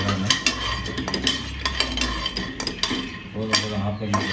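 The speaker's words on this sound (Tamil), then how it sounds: "பாதாம் போட்டு வறுத்துப்போம்." Almonds rattle and scrape in a dry pan as they are roasted and stirred, with a spoon clinking against the metal in an uneven, busy rhythm.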